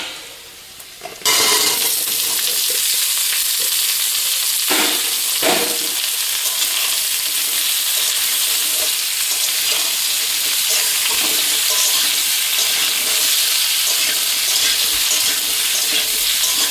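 Chopped onions and bottle gourd fry in a pan, giving a loud, steady sizzle throughout, with occasional scraping stirs and bursts of spitting oil.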